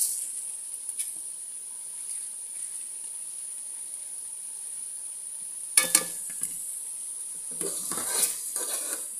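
Rice and peas roasting in a pan for matar pulao make a faint, even hiss, broken near the end by a few brief scraping clatters of stirring.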